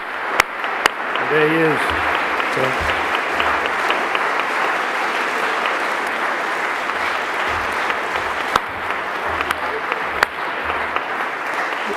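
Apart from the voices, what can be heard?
applause for award winner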